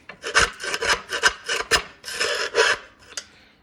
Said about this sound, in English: what I've been doing is just using my flathead and just scraping like that.